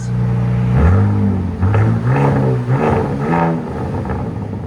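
A 2025 RAM RHO with the 3.0L Hurricane inline-six and an aftermarket exhaust revs up close and loud, giving about four or five rising throttle blips in a row over a steady idle rumble.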